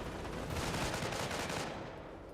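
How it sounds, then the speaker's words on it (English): A base machine gun position in the World War II strategy game Company of Heroes rattles out a rapid burst of fire, dense and steady before tapering off, moderately quiet in the battle mix. "The only thing I saw was hitting that Hellcat was this base MG."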